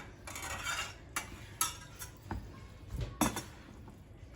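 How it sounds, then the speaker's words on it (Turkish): A utensil scrapes and clinks against a pot while lemon juice is stirred into a stuffed artichoke filling, giving quiet, irregular taps and scrapes close by with no talking. "Biraz daha karıştırayım."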